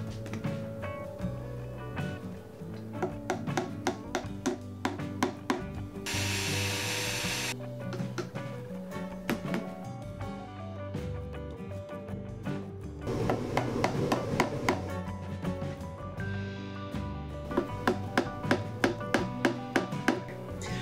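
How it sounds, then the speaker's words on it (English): Drilling small holes and tapping in brad nails while building a retro Bluetooth speaker: sharp tapping hits repeat in quick clusters over a steady whirring hum, with a brief louder burst partway through, close and moderately loud. "drill these carefully with a very small hole and put a brad nail down into each"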